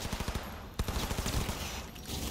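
Rapid gunfire in the Cyberpunk 2077 video game, a dense burst of automatic shots lasting a couple of seconds, loud and close with no speech over it.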